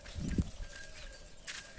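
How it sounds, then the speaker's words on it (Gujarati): Goats in a hilly rural setting give a short bleat near the start amid faint ambient background, followed by quieter scattered calls and a brief high chirp later. "આ બકરા બધા સરારા છે."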